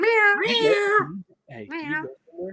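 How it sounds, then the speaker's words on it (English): Cat meowing indoors in a closet, several drawn-out meows in two bursts, close and loud, with a voice speaking between them. "That's a cat."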